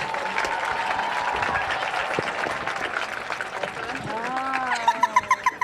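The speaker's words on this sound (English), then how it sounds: "Please give them a round of applause." Crowd applause at a high school football game, steady clapping from spectators lasting several seconds, with a sharper rhythmic burst of claps near the end and a faint tonal sound briefly rising behind it.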